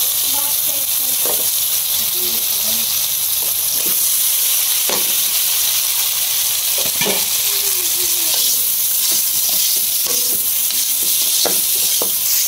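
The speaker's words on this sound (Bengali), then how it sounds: "কাঁচা কলার তরকারি রান্না হইতেছে" Raw banana curry with native stinging catfish cooking in a pan, a loud, steady sizzle and hiss of frying throughout, broken by occasional stirring scrapes and clicks, with a voice faintly in the background.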